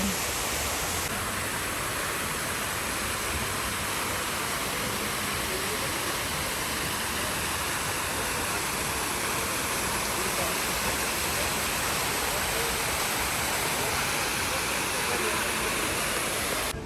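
A city-square fountain in Ivano-Frankivsk splashes in a dense, continuous rush of falling water, loud and unbroken throughout with no talk.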